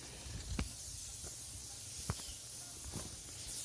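Steady broad hiss of air leaking from an air compressor, continuous and fairly quiet, with a few faint knocks and scuffs over it, no talking.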